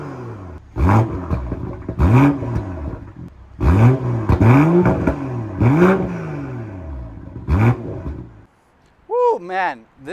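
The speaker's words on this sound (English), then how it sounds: "Man, this thing sounds so aggressive with the M Performance exhaust, and that's barely anything." A 2022 BMW M340i with M Performance exhaust fires up and revs repeatedly, a series of sharp rising-and-falling blips in quick succession before settling, then a final short rev near the end; close and loud.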